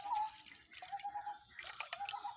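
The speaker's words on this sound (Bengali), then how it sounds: "এবারে আমাদের বাড়ির লিকুইড দুধটা দিয়ে দেব।" Milk is poured into a heated kadai on a stove that already holds a little water, while paneer is made at home. A close, steady trickle with dripping runs throughout, and no one speaks.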